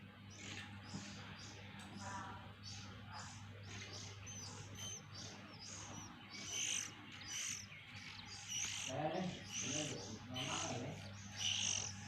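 Many magpie robin (kacer) chicks chirp and cheep in a dense, continuous chorus of short high calls, growing busier and louder toward the end, with a steady low hum underneath.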